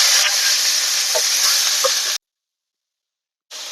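Ponnanganni greens sizzle and hiss in hot oil with mustard seeds, urad dal and a dried red chilli, a loud steady frying sound with a few pops that cuts out for a moment before resuming.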